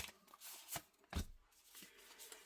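Oracle cards are shuffled and drawn by hand, giving a few quick close riffles and soft slaps across a couple of seconds, quiet and with no talking.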